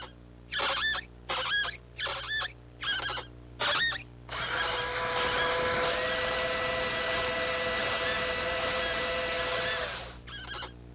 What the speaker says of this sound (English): Here are 3 popular ways to drive a screw.